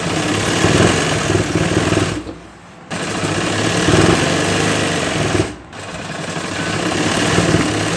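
A sewing machine runs loud and steady while stitching a bridal lehenga, its motor drone continuous apart from two brief pauses.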